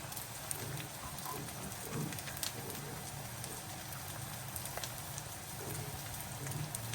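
Minced meat (qeema) with chonge (Caralluma fimbriata) fries in a pan, giving a steady, dense crackling sizzle that continues evenly throughout with no talking.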